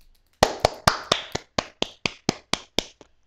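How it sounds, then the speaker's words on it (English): Sparse applause from a few people in the Steins;Gate visual novel: about a dozen separate sharp claps in an even, slightly slowing rhythm, dry and close, ending abruptly. "Greeted by the clapping of only a few people."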